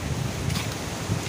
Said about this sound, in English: So that wind is pretty gusty